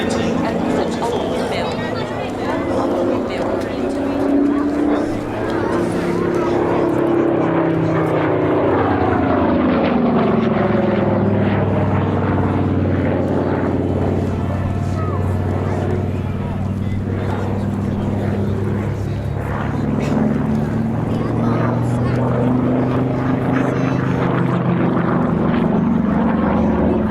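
A SAAB B17 propeller dive bomber flies past at an airshow at Duxford, its engine drone rising and falling as it passes, with a commentator talking over it throughout.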